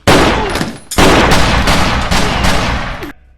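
Loud, close bursts of pistol gunfire in a gangster film scene, a dense crackling volley that drops out briefly near the one-second mark, resumes and cuts off abruptly, with no talk over it.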